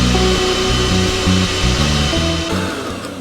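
Electric hand mixer beating sugar and eggs for pumpkin spice brownie batter, a steady loud motor whir with rhythmic pulsing as the beaters work the bowl, easing off near the end.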